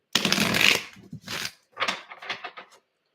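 Tarot cards are shuffled and dealt in bursts of crisp riffling and slapping, a long flurry followed by shorter clusters, close and fairly loud with no talking.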